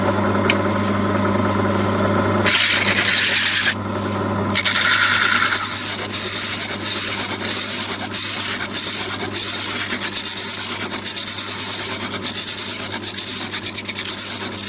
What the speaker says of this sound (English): I use a thickness sander, which I'm just going to show you now